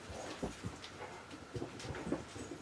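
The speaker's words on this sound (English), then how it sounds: "Why are you barking?" A dog barks and whimpers faintly a few times indoors, half buried in a steady hiss of room noise.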